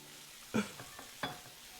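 Tuna frying in a pan for a tuna sandwich in the game One Armed Cook: two short, quiet scraping stir bursts over a faint low sizzle, brief and close.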